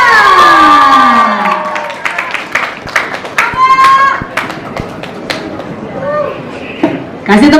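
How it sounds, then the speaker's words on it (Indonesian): A press conference audience at a cast reveal for a high school drama series claps and cheers, the crowd noise loud and sustained under an announcer's amplified voice, with scattered claps and whoops continuing. "Kasih tepuk tangan lagi dong"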